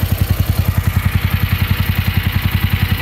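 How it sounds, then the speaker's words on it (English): A Chinese mini excavator's engine idles while warming up, a steady loud low chugging with an even, rapid pulse and a mechanical clatter on top, running alone and unbroken throughout. "I'm just letting the engine warm up right now."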